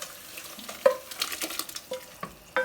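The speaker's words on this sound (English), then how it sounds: "I'm going to pour everything in here." Seafood gumbo ingredients go into a hot skillet, with splashy pouring, scraping stirs and a brief sizzle in a handful of quick, uneven bursts, close and fairly loud.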